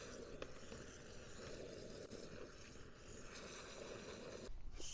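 A bucket fills with water from a running tap or hose for washing a Honda Gold Wing's tires and wheels, giving a faint, steady rushing hiss that ends in a brief clatter.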